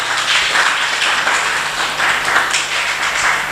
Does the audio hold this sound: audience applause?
yes